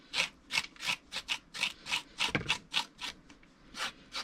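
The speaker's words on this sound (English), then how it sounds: "you want to just run your spoon right down the middle till all the seeds are out" A spoon scraping the seeds out of halved zucchini: a steady rhythm of about a dozen close, rasping strokes, each a short hissy scrape, with no voices.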